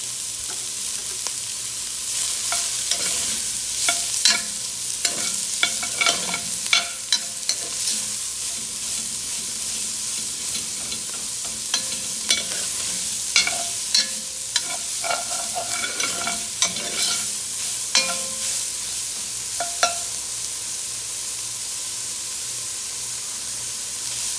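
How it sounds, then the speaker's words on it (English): Chopped onion fries in leftover dove grease in a pot, giving a steady sizzle and hiss with scattered stirring scrapes and small pops throughout, no voices. "We're going to fry our onion down in the grease that we put in there, that we had our dove in."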